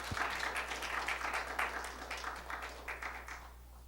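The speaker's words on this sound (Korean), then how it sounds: "자, 우리 이태우 집사를 위해서 우리 박수." A church congregation claps together in a modest, fairly close round of applause, with individual claps audible in the texture, tapering off toward the end over a steady low hum.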